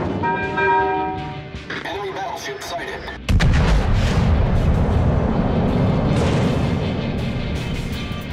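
Heavy battleship guns boom in World of Warships Legends, with a Russian tier 5 Izmail battleship in naval combat; a sharp, loud blast hits after a short lead-in, its rumble rolling on and slowly fading.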